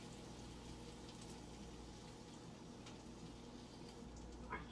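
Quiche filling of egg mixture poured over bread in a home kitchen, a soft, steady liquid pour running faintly and continuously with no talking.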